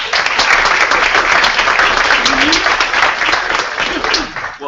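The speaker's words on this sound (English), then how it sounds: "Let's give him a round of applause." An audience at an author coffee event for the Great Michigan Read gives loud, dense applause that carries on steadily and then starts to fade near the end.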